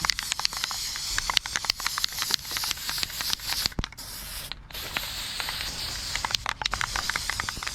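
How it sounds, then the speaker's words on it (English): A can of neon Rust-oleum spray paint hisses steadily as it coats rod holders, with short pauses between passes and faint clicks and rattles throughout. "so let's spray paint them"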